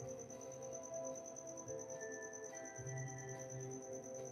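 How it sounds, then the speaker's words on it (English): Crickets chirping inside a garage studio below a condo, a faint steady high-pitched trill running continuously through quiet room hum, with no voices. "we get crickets. And they like to talk, so that's what that sound is."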